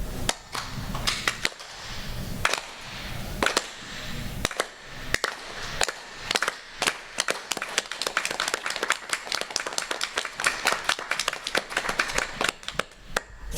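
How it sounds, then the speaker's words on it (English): An audience at a justice and reparations gathering claps along, starting with scattered loud claps and building into a dense, fast run of sharp hand claps near the mic. "And if you will follow me in clapping"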